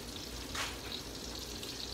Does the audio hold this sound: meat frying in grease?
yes